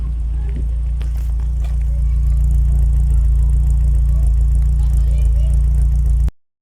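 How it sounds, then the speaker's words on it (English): A car engine idles steadily after being started from outside the vehicle, a constant low rumble holding through the whole stretch before cutting off at the end; a voice is faintly present over it. "how to start this car from outside"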